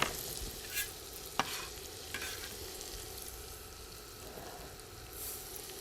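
Garlic sizzles over high heat in a pan, a steady frying hiss broken by a few scraping stirs of a utensil, close and moderately loud.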